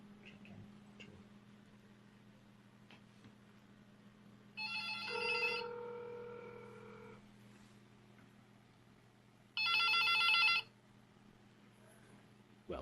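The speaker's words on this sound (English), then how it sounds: "we've dialed the phone directly from the desktop, and here it is, it's ringing" A desk phone rings after a call is placed from desktop software, two bursts of electronic ringing separated by a few seconds over a quiet background hum, with no talking.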